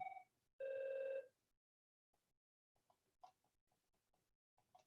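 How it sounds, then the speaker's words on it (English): A telephone bell rings in a short burst and then a longer sustained ring during a remote board meeting, followed by faint clicks and soft keyboard-like tapping in a quiet room. "my phone keeps ringing"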